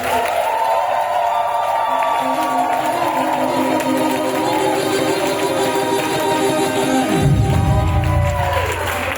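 A large congregation at a spiritual retreat cheers and acclaims Jesus, with loud, continuous shouting, whoops and clapping that fill the space, and a deep surge near the end.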